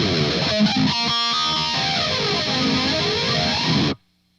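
Guitar played through a flanger placed before the amplifier on a Line 6 HX Effects unit, giving a loud, distorted tone with sweeping comb-like swirls that runs continuously, then stops abruptly near the end.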